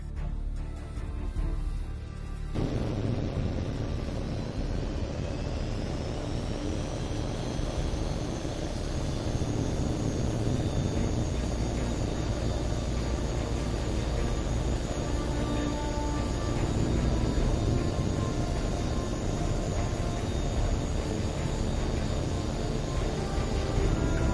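A jet fighter takes off in the flight combat game H.A.W.X 2, with a loud, continuous engine roar that begins abruptly and carries a rising whine as it builds.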